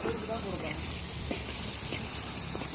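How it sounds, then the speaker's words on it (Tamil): Onions sautéing in a pan for drumstick thokku give off a steady, even sizzle and hiss, with faint voices in the background. "வெங்காயம் போட்டு நல்லா வதக்குறாங்க"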